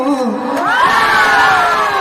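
A crowd cheers and shouts loudly at a Bihu stage comedy show, one drawn-out voiced cry rising above the noise and holding for about two seconds.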